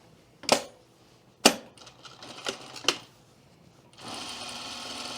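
Sewing machine stitching a dart in a skirt: a few sharp mechanical clacks and short bursts, then a steady faint whirring run of stitching at the end.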